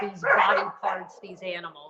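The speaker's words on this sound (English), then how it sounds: "Sorry about the barking dogs." Dogs bark in the background, a few short yapping bursts mixed under a voice as he talks.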